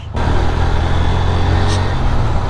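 A Honda motorcycle engine drones steadily while riding onto the Lyari Expressway in Karachi, a continuous rumble with road and wind noise, heard from the rider's position without talking.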